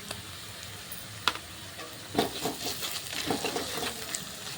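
Onions sizzling in a pan as ginger garlic paste goes in, with steady frying hiss and a few scraping stirs close by, no talking.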